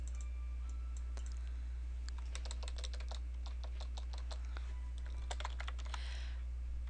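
Fingers tap out a spreadsheet chart title on a computer keyboard, quick bursts of close key clicks in uneven runs over a steady low electrical hum, with no talk.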